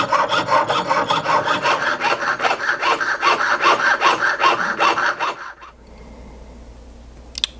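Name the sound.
trimming an 18kt gold ring band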